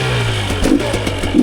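A small dirt bike engine in first gear revs in short bursts, a low steady idle broken by two quick throttle blips, close by.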